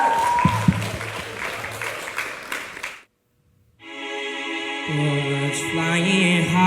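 A talent show audience applauding a young performer, close and fairly loud clapping for about three seconds, then a brief silence before music with a sustained tone begins.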